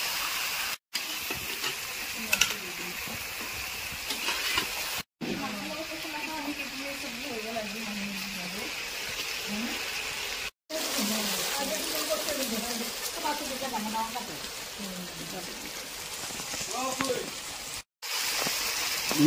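Potatoes fry in a pan for an Assamese banana stem dish, giving a steady, soft sizzling hiss that runs throughout, with a voice talking over it and brief breaks.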